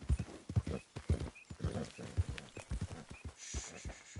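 Horse hooves clop at a brisk galloping rhythm in Red Dead Redemption 2, soft and fairly distant beneath faint game ambience, without talk.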